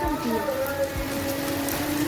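Heavy rain pours during a thunderstorm in Sialkot, Pakistan, a dense, steady hiss of drops on surfaces with some tonal background noise throughout.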